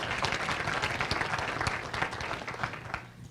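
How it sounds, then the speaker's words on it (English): Round of applause at a 2015 legislative summit, an audience clapping steadily for a few seconds and tapering off near the end, moderately loud in a room. "Thank you, and please give them a round of applause."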